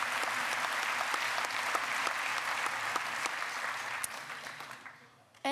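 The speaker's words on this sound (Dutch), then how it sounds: "Geef ze een applaus." An audience at a Natuurpunt tenth-anniversary show applauds in a dense, sustained burst of clapping from a crowd, tapering off after about five seconds.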